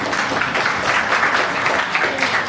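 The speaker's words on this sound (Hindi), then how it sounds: "चलो एक बार मैडम के लिए ताली बजाओ जोर से।" A crowd claps loudly and continuously for someone speaker at a youth panchayat gathering, dense even applause with no talk.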